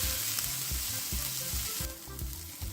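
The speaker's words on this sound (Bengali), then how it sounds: "অল্প ঘিতে এটাকে লো ফ্লেমে রেখে একটু ভেজে নেব" Onion fries in ghee over a low flame, a close, steady sizzle with soft rhythmic scraping strokes from stirring running through it.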